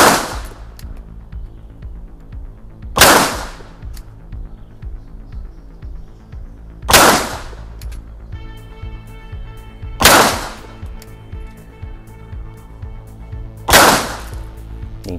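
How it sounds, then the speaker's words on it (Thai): Five sharp pistol gunshots fired at a target on a shooting range, spaced a few seconds apart, loud and close over a steady low hum, with no talking. "เริ่มยิง"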